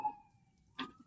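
An emergency vehicle siren drifts in from outside, faint and distant, with a steady wailing tone that fades briefly before a short burst of louder noise.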